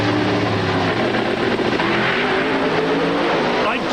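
Alcohol funny car drag racing at the inaugural IHRA Rocky Mountain Nationals in 2003, with loud continuous engine roar from the strip and an announcer talking over it.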